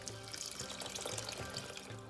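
Water pours steadily into a cooking pot holding rice and a splash of olive oil, a continuous splashing, gurgling stream heard up close for about two seconds with no talking.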